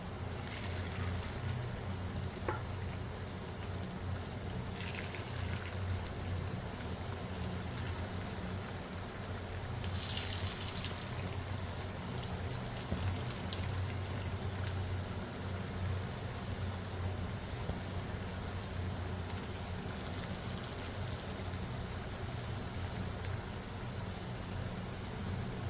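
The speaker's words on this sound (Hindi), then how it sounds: "अब मैंने ऑयल रख दिया था गर्म होने के लिए, अब हम फ्राई कर लेते हैं इसको" Chicken pieces for kung pao chicken fry in hot oil over high heat, giving a steady, dense sizzle and crackle that holds evenly throughout with no talking.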